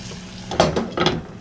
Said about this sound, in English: Time to pop on the lid.